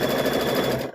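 A sewing machine stitches a quilt block for a thread catcher, giving a steady, loud, close mechanical whirr that runs for about a second and then cuts off.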